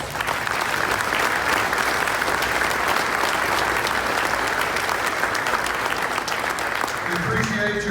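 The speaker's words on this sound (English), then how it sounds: "Let's give them all a round of applause." Loud, dense applause from a business meeting audience honoring the board of directors, a steady wash of clapping that holds for several seconds before a voice begins to speak at the end.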